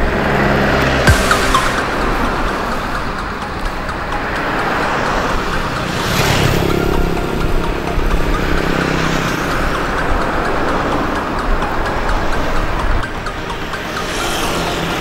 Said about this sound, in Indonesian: kendaraan lalu lalang memacu kecepatan dengan sangat tinggi